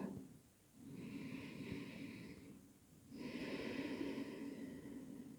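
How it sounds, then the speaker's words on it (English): Two slow, deep breaths during a yoga class: a long airy inhale, a brief pause, then a second sustained breath, close and fairly loud with no talking. "Now we're going to take one more deep breath."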